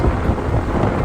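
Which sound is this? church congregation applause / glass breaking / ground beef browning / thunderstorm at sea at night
thunderstorm at sea at night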